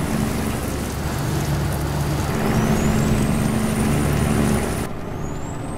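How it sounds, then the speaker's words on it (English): A Caterpillar truck engine in American Truck Simulator drones steadily throughout, a continuous low rumble with a thin high whine rising near the end, with no talk over it. "Love the sound of that cat engine."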